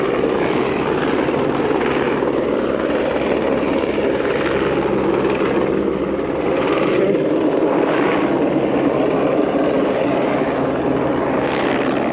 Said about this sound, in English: Helicopter, I think.